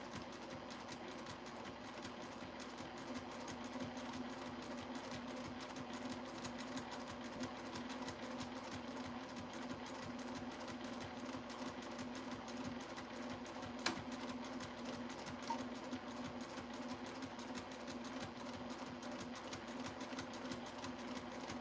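A sewing machine runs slowly and steadily while stitching fabric around a curved circular line, its motor hum and rapid needle ticking continuous and fairly quiet throughout, with no talking.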